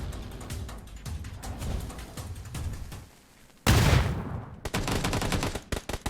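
Gunfire in the mobile battle royale game PUBG New State: rapid automatic bursts crackle throughout, then a sudden loud heavy blast and renewed firing, close and dense, with no talking.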